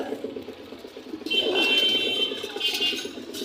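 Pigeons at a busy pigeon market in Bangladesh, soft close cooing that swells in the second half over a low murmur of background voices.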